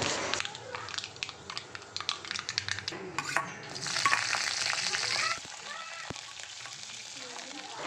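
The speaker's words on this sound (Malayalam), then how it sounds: "എണ്ണ ചൂടായി കഴിയുമ്പോഴത്തേക്ക് 1/2 ടീസ്പൂണോളം കടുകും കൂടി ഇട്ട് കൊടുക്കാം" Mustard seeds splutter in hot coconut oil, a busy crackle of sharp pops and sizzling that swells in the middle, then eases to a thinner hiss with scattered pops and a faint clink.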